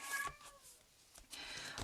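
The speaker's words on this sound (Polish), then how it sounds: "kot mi się rozmiałczał" A house cat meows twice in quick succession, close and fairly loud, with a quiet indoor background and no talking.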